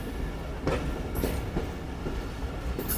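A train runs near the last railway station on the Afghan-Pakistan border: a steady, loud rolling rumble close by, with repeated clickety-clack beats from the wheels on the rail joints and no talking.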